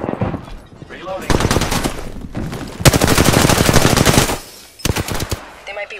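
Rapid bursts of machine gun fire in the shooter game Apex Legends, loud and close, with long sustained strings of shots broken by brief pauses.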